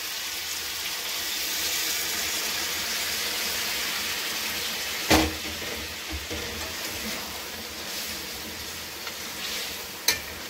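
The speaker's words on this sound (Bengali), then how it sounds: "জলটা দিয়ে দেবো।" Water poured into curry cooking in a pan, giving a steady, close hissing sizzle throughout, broken by two sharp metallic clanks.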